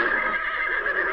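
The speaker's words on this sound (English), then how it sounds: "It's a horse sound." A horse neighs, a short, continuous whinny heard alone and fairly clear.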